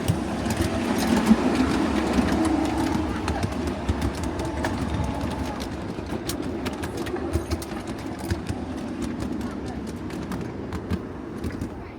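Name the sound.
miniature railway train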